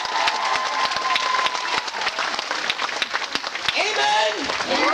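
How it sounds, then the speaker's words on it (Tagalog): A congregation at a Sunday service in Hong Kong applauds for God, loud, crowded clapping with some cheering and a voice speaking over it near the end. "Grabe yung palakpak niyo sa Diyos"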